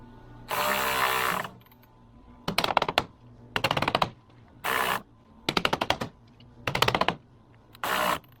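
Gentle taps on the collar of a swimming pool cartridge filter, heard as six short bursts of quick, rattling strikes separated by brief pauses, close and fairly loud with no talking.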